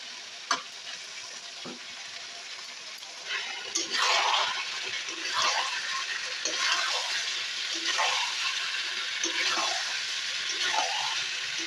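Chicken and potatoes go into hot spiced oil with a sizzle, then fry steadily with repeated stirring scrapes at a close, moderate level; no voices over the frying.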